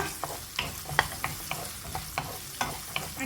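Shallots and slit green chillies sautéing in a pan for chicken biryani, with a steady sizzle and regular sharp clicks of a spoon scraping the pan roughly every half second.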